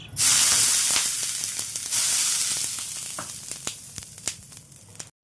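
Loud hissing sizzle as water is sprinkled on a hot griddle before making moong dal chilla, bursting strongly at first and then fading with scattered crackles and pops.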